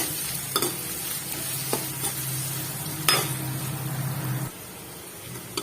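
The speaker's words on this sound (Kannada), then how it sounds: "ಈಗ ಕಟ್ ಮಾಡ್ಕೊಂಡಿರೋಂಥ ಉಳ್ಳಾಗಡ್ಡಿ ಚೆನ್ನಾಗಿ ಫ್ರೈ ಮಾಡ್ಕೊಳ್ಳೋಣ ಹಸಿ ವಾಸನೆ ಹೋಗೋವರೆಗೂ" Chopped onions frying in a pan for a rajagiri soppu palya, with a steady nearby sizzle and a few scraping stirring clicks. The sizzling drops away near the end.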